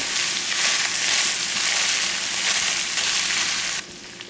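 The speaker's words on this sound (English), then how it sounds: "we'll just stir this all around so that cream cheese starts to melt really good" Cream cheese and chopped butter melting as they are stirred in a pan, a loud, steady sizzle close by that drops off near the end.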